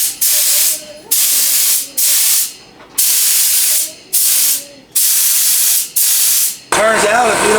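A paint spray gun with a loose cup blows air into the cup in seven loud hissing bursts, each cut off by a short pause.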